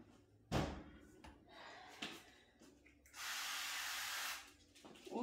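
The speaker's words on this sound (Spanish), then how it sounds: "Uso este aceite en spray de aguacate" A can of avocado oil cooking spray releases one continuous hiss of a second or so in a home kitchen, preceded by a few sharp knocks and clatters as the can is handled.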